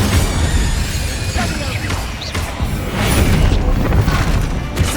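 The Incendio fire spell in Hogwarts Legacy roars as a dense, crackling whoosh of flame lasting several seconds, loud and close with scattered bangs and clatters mixed into the game noise.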